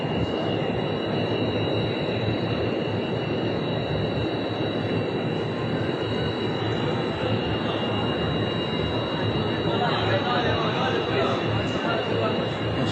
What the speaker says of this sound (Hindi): तेज़ रफ्तार इलेक्ट्रिक ट्रेन है और हर 2 से 3 मिनट बाद एक ट्रेन यहाँ पर आती है।